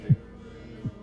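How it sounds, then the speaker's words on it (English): Two soft, low thumps of a human heartbeat captured by a heartbeat sensor, about three-quarters of a second apart, with a faint hum between them. "Hear your heartbeat."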